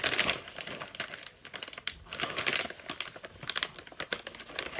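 Loud, close crinkling and rustling of a plastic pet treat packet being handled and pulled at, continuous with irregular sharp crackles throughout.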